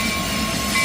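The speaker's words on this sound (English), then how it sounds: "Got a local train." CN local freight train L521 rolling eastbound at Battle Creek, Michigan, a steady close rumble of railcars with a continuous grinding roar and faint high wheel tones, no voices.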